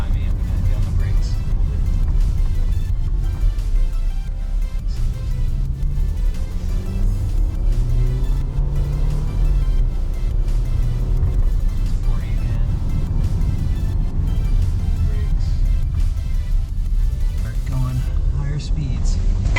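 An Audi Q5 accelerates to about 40 on a test drive, its engine and road noise a steady, continuous rumble from inside the cabin with people talking over it.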